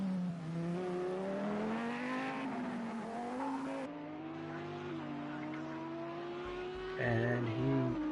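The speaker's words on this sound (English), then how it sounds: "he has a very heavy sounding car in front of him, so that's probably the Mercedes of Jamie, because there are only a few cars that sound so low" A heavy, low-pitched Mercedes race car engine in Project CARS 2 at Fuji Speedway drones steadily near the listener, its pitch sliding up and down through gear changes, with a brief tire-squeal-like burst near the end.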